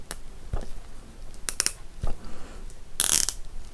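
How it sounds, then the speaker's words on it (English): A plastic bead is forced tightly onto a wooden barbecue skewer, giving a few faint, scattered creaks and clicks with brief scraping bursts in a quiet room. "I'm going to thread the bead onto the skewer and push it on really,"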